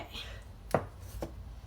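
A knife presses through a stick of butter or margarine on a board, giving one firm thunk and then a softer second cut, close and brief, with faint room noise around it.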